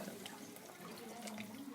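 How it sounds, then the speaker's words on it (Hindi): Water from a cup pours into a cooking pot while making chicken black pepper shorba, a continuous splashing, gurgling stream heard up close and steady for under two seconds, with no talk over it. "यहाँ पर दोस्तों 1 कप हम पानी का लेंगे।"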